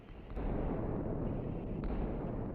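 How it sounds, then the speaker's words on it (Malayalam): Shots fired in the space-destruction video game Solar Smash set off a steady, heavy rumble of explosions, a thick continuous roar with a couple of faint sharper bursts on top. "കണ്ട എല്ലാത്തിനും വെടി വെച്ചിട്ട്"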